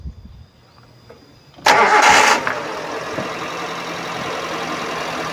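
A 2012 Suzuki Carry Futura 1.5 pickup cranks briefly and catches with a loud burst, then settles into a smooth, steady idle that holds evenly, recorded close with no talking.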